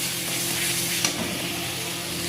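Fried potatoes sizzle in a pan for hilsa fish curry, a steady close broadband hiss with a soft clack from a spoon or spatula midway and no talk.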